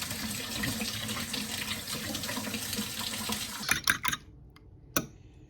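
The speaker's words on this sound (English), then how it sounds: "if you rinse the eggs off before you fix them" Eggs rinsed under a running kitchen tap: a steady stream of water splashing in a sink, then a few sharp splashes and knocks as the flow stops, with no talk.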